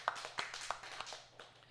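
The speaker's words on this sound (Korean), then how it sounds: "하나님께 영광의 박수 드리겠습니다." A church congregation applauds during a Sunday worship service, with scattered, uneven claps that are close and fairly sharp, thinning out toward the end.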